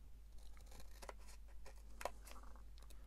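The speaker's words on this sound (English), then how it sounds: "probably better if we used a bigger pair of scissors" Scissors snip through a paper document wallet in a quick run of close, crisp cuts, faint over a low steady hum, with no speech.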